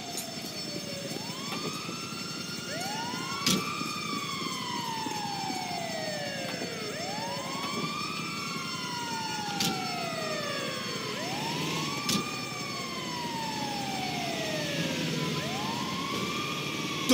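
Ambulance siren in the GTA 5 video game, wailing in repeated rising-and-falling sweeps that stay loud and steady for the whole stretch, with a few sharp knocks cutting through and no talking.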